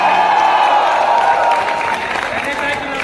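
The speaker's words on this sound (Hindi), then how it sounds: "पीछे वाले लोग भी जोरदार तालियां बजाएं हमारे आज के मेहमान के लिए" A large crowd at a public talk claps loudly for a guest, sustained applause that fades slightly toward the end, with a voice carrying over it.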